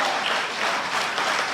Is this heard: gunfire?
no